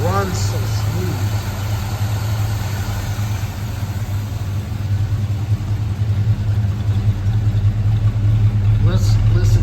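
The engine of a 1952 Pontiac Chieftain De Luxe Catalina runs smoothly at idle with a steady low hum and dual exhaust, close by, while someone talks over it.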